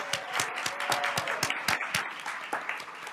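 Audience clapping at a school district governing board meeting, a room of people applauding with distinct individual claps in a steady, moderately close patter.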